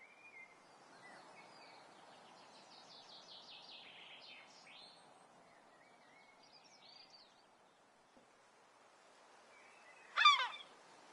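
Seagull calling in the video game Chained Echoes: a series of faint, harsh game bird calls, ending in one sharp, louder squawk near the close, with no talk.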